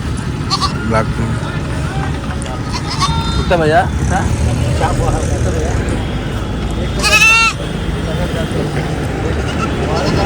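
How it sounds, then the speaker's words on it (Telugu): Goats bleating at a busy village market, a few wavering bleats at moderate distance over steady crowd chatter and background noise. "ఒక మేకనా"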